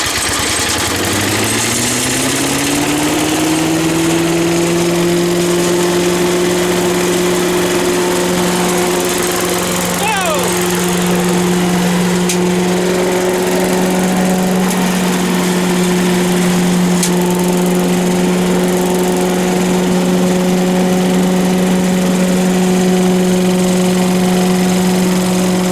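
A Briggs and Stratton 5HP leaf blower engine starts after a repair and runs steadily at a loud, droning roar, its pitch rising as it revs up and then holding, with no voices.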